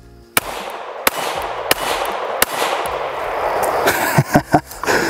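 An FN Five-seveN MRD pistol fires four sharp, loud shots at an even pace outdoors, each ringing out briefly, followed by a quick run of metallic clanks and knocks.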